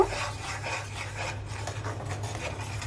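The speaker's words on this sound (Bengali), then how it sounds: "লবণ আর ধনিয়া ফাঁকি দিয়ে দিলাম এখন ভালো করে কষিয়ে নিব" A spice paste with salt and coriander is stirred and sautéed in a pan for a fish curry, heard as continuous close rubbing and scraping of a spatula over a low steady hum, with no talk.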